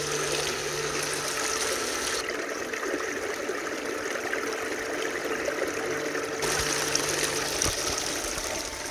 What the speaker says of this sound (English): that's the water going in, and that's the water falling off